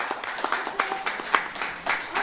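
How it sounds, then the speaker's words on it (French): Scattered hand claps from an audience at a talk about mother-baby attachment and breastfeeding, thin and uneven rather than a full ovation, with a voice murmuring over them. "il faut applaudir pour Madame Tamer."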